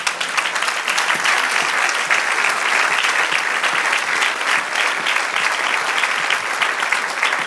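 A church congregation claps loudly and steadily throughout, a dense, sustained wash of many hands with no voices standing out.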